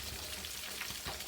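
Fish frying in hot oil gives a steady, dense sizzle and crackle throughout, even and unbroken, with no voices.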